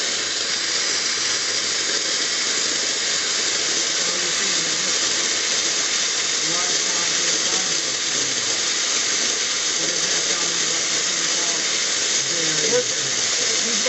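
Steam hisses steadily from an opened valve in an industrial plant, a loud, continuous broadband rush that holds unbroken and close throughout, with faint voices beneath it.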